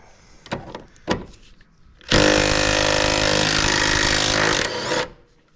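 An impact or power tool spins a nut off a car shock absorber on a 2006 Jeep KJ CRD, a loud continuous whirring burst of about three seconds after a few short knocks, with no talk.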